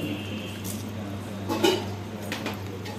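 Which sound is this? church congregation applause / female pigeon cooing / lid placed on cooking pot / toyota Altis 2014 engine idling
lid placed on cooking pot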